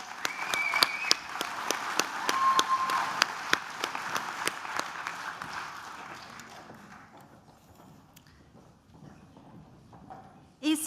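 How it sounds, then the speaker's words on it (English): Applause at a School of Design & Humanities graduation ceremony for an ESOL Level 3 class, a dense clatter of many hands clapping that swells early, then thins and fades toward the end. "Round of applause for ESOL Level 3."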